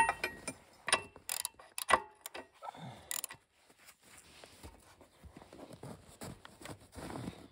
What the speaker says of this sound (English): I'm gonna take those bolts out and take it all off